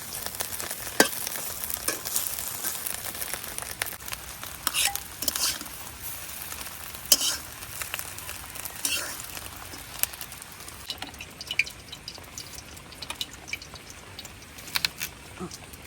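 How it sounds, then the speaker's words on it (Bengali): Duck egg frying hard in a pan, a steady low crackle and sizzle with occasional pops and faint utensil clinks throughout. "ডিম এরকম একটু কড়া করে ভাজলেই খাইতে ভালো লাগে, এই জন্য আমি একটু বেশিক্ষণ সময় ধরে ডিমটা ভাজি।"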